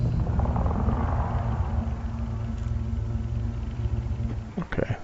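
Krait II spaceship thrusters in the space game Elite Dangerous, a steady low rumbling drone that holds loud throughout, with a brief higher whoosh near the end and someone talking over it.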